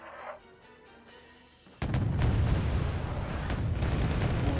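Bombs dropped by an SU-24 in the Wargame Red Dragon game detonate with a sudden loud boom, followed by a sustained rumbling roar of explosions and battle noise.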